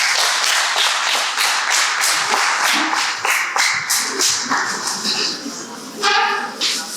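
Audience at a school debate event claps after a master of ceremonies is introduced, a dense patter of many hands near and loud with crowd chatter mixed in.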